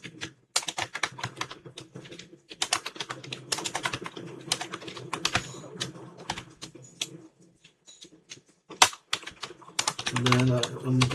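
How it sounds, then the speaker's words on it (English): Clicky computer keyboard typing in bursts of quick keystrokes with short pauses in between, close and fairly crisp, while someone talks quietly over parts of it. "So I'm typing hello world"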